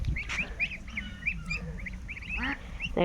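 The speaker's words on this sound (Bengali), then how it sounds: "সব হাঁস এখানে চলে আসছে" A flock of farmyard ducks quacks in rapid, repeated calls, fairly close and steady, with a few louder honks near the end over outdoor background noise.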